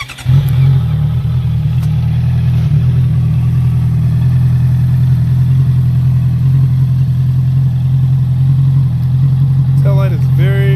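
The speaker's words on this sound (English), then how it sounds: "Once I turn it on, let you hear the motorcycle." A 2014 Honda CBR 650F motorcycle engine with aftermarket exhaust idles steadily with a low, continuous rumble, close and loud throughout, with a brief rev near the start.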